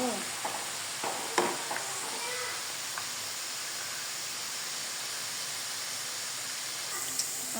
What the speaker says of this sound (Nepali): अब चाहिँ म यसमा मसलाहरू पकाउँदै जान्छु।